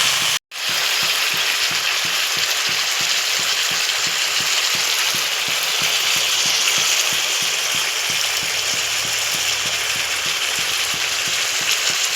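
Meat with tomato and potato sizzles steadily in spiced oil in a pan, a continuous close frying hiss with faint stirring scrapes, after a brief dropout at the start.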